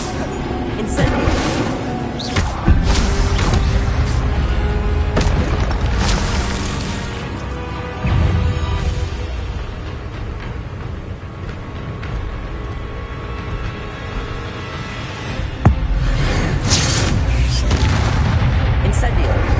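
Incendio fire spells cast repeatedly in the video game Hogwarts Legacy, loud booming bursts and crackling blasts stacked in a dense, continuous barrage of game effects, with voices calling out over the action.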